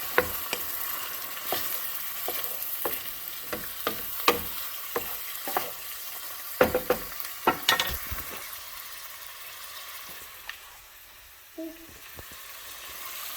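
Tomato sauce is stirred into a hot pan for a venison osso buco, with repeated spoon scrapes over a soft, continuous sizzle that fades toward the end.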